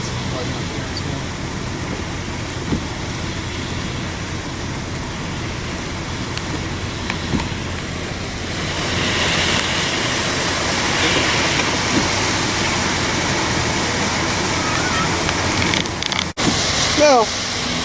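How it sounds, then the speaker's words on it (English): Rain falls steadily during flooding in Troy, New York, a continuous broadband hiss that swells louder partway through, with a voice speaking faintly beneath it. "still raining, but it's after the storm is over there."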